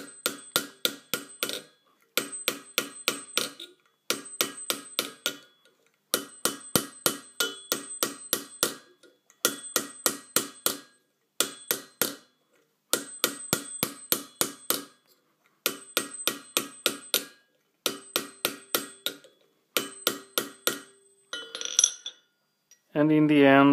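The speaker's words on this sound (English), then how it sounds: "I use this kind of iron, and I hammer with this hammer," Metal for a coffee pot spout is hammered on an iron to shrink it, in repeated bursts of quick, ringing metallic blows separated by short pauses, close and clear, with a brief scrape at the end.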